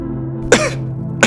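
Two short, sharp coughs close by, the first stronger, the second following a moment later over a low steady hum.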